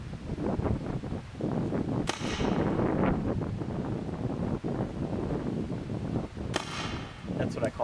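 Tippmann TCR paintball marker firing outdoors, two sharp distinct pops a few seconds apart amid wind and background noise, with someone talking around the shots.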